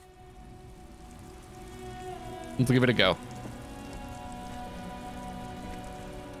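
Steady rain patters on surfaces in the video game Disco Elysium, a soft continuous wash under a low hum, while someone speaks briefly midway.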